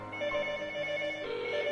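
A GSM telephone system phone rings with a steady electronic ringtone of sustained tones that shift pitch partway through, loud and close for under two seconds, with no talking.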